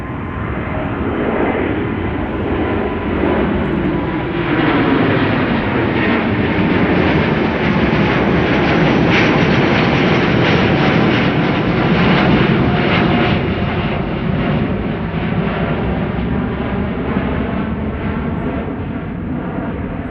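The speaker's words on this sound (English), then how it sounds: "Delta Airlines going to Boston, Massachusetts, A330-300, no, A330neo" A Delta Airlines Airbus A330neo takes off at Amsterdam Schiphol, its engines building into a loud, sustained roar that swells mid-way and eases slightly near the end, with no talk over it.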